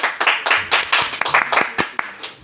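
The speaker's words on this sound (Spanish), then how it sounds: "Fuerte aplauso para él." A small audience at a book presentation in a bookshop claps for a speaker. Separate, sharp hand claps sound close and uneven, more like scattered clapping than a full roar.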